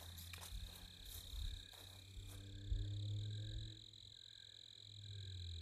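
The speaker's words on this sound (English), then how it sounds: "you can hear the different crickets down in here" Steady high cricket chirping fills the background on a full-moon night walk, soft and continuous, with low croaking frog calls underneath in a quiet outdoor setting.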